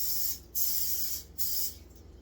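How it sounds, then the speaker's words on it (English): An aerosol spray can hisses in a home kitchen while wings are being cooked, two or three close, loud bursts of bright spray separated by short pauses. "A little of this here spray."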